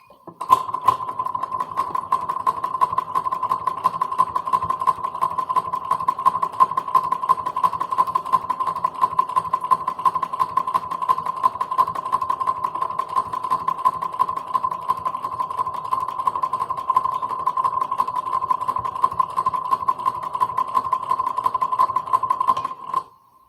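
A sewing machine runs continuously while stitching a log cabin quilt block, a steady mechanical hum with a fast, even needle rhythm lasting over twenty seconds before stopping abruptly.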